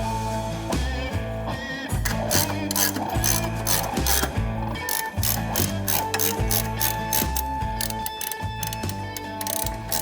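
A torque wrench ratchets steadily on the exhaust mounting bolts of a Vance & Hines stainless steel 2-into-1 upsweep exhaust, a dense, close, continuous clicking with a metallic ring, while the tool runs for several seconds without pause.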